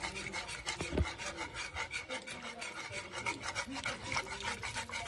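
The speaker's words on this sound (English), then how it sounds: "I'm going to use a whisk, but I always use this spatula as well" A whisk and spatula stirring bechamel sauce in a pan, a continuous close scraping and rubbing with a steady rhythmic churn and no talking.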